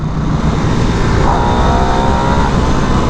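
Harley-Davidson 2022 Nightster motorcycle with its 975T Revolution Max engine accelerating hard, a loud, steady engine roar rising in pitch throughout, heard alone with no talking.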